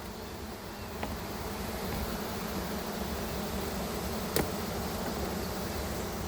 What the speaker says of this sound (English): we're going to have a lot of bees hanging around here in just a minute